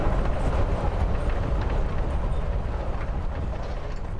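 Freight train rolling on tracks in the game Life Is Strange: Before the Storm, a steady dense rumble with faint rhythmic clatter, loud and continuous with no speech.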